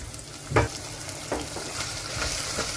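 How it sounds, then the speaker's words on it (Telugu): Onion pieces and curry leaves fry in a pan for a drumstick and tomato curry, giving a steady close sizzle with a few soft scraping stirs and no voices. "ఉల్లిపాయ ముక్కల్ని కొంచెం వేయించుకోవాలి"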